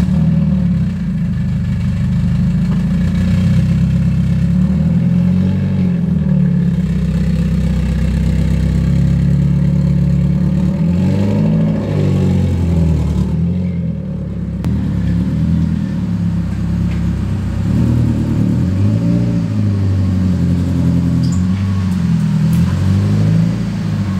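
A Mazda Miata NA engine runs loud and close as the car creeps forward, with a steady low idle rising into several gentle revs and easing back.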